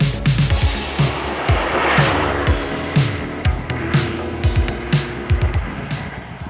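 Alfa Romeo 33 1300V and other cars lapping the Imola circuit, engines roaring past in repeated close passes with rising and falling revs, a steady engine drone in between, no talking.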